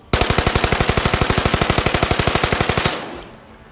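Uzi-like submachine gun from the Zero Caliber video game firing one long rapid-fire burst of about thirty evenly spaced shots. Loud and close, cutting off sharply, then a short fading tail.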